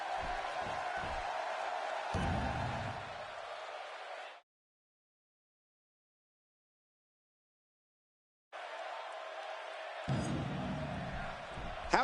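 Virtual arena crowd in the WWE 2K16 wrestling game reacting to Stone Cold Steve Austin, a loud sustained roar with cheering swells, cut by a stretch of total silence before the noise returns even louder.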